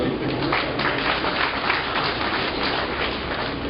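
Sustained applause from an audience at the launch ceremony of a program, steady dense clapping throughout at moderate loudness with no talk over it.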